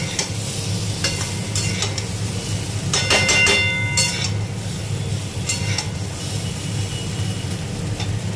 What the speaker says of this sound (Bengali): আদাটা গ্রেট করে আমি এটা আমের সাথে ভালো করে একটু ভেজে নেবো